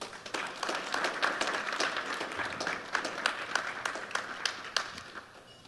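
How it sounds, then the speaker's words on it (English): An audience applauds the speakers at the start of an art talk with gallerists, a moderately quiet patter of many hands with sharper individual claps standing out throughout. "please give our speakers today a very warm round of applause"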